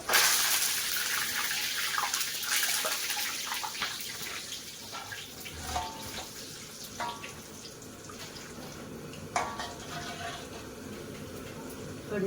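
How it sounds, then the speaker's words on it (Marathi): Curry leaves frying in hot oil for Diwali poha chivda, giving a steady hiss and crackle that runs throughout with a few sharper pops. "आता आपल्याला कढीपत्ता तळून घ्यायचा"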